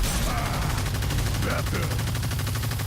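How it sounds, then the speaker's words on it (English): Assault rifle fire in the video game Evolve, a rapid, dense stream of gunshots rattling continuously at close range under a low rumble, with no pause across the short burst. "I'm gonna switch to my assault rifle. Just keep on getting some health damage on him"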